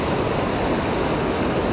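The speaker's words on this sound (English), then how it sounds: "It's a lot of fast water" Fast-flowing river current rushes in a dense, steady roar, close and loud with no breaks, and nothing else audible over the water.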